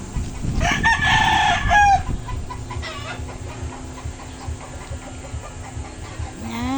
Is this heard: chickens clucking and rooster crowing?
yes